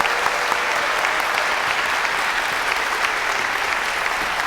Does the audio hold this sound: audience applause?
yes